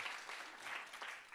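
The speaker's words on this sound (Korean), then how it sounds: "우리 찬양팀 찬양대 그리고 영상을 만들어주신 모든 선생님들께 다시 한번 감사의 박수 올려드리면 좋을 것 같습니다." Applause of thanks from a church congregation at a Sunday worship service, a brief steady patter of many hands at moderate distance, fairly faint and continuous without talk.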